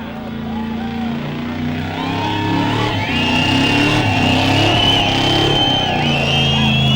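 Sprint cars on a speedway at the start of a two-lap knockout race, a loud, continuous engine roar that builds and rises in pitch as the cars accelerate, with no talk over it.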